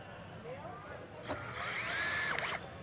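A power drill drives a screw into a vertical rod door panic bar, winding up and running steadily for about a second and a half before stopping. A voice can be heard faintly under the tool.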